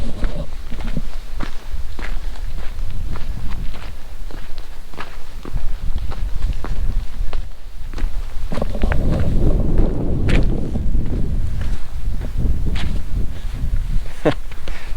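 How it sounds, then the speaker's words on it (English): Wind buffets the microphone on a windy, dusty day out on a hike, a constant low rumble that swells and fades, with crunching footsteps throughout. "It's fairly windy and dusty."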